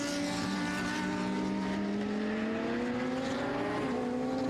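HP Racing's Lamborghini and DB Motorsports' Porsche race cars battle wheel to wheel in an endurance race at Most, engines screaming steadily with rising and shifting tones, loud and continuous with no talk.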